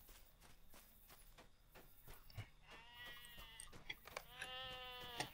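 Sheep bleating in the online video game LOTRO, several layered bleats rising over soft footstep-like game sounds, fairly close and clear with no talk.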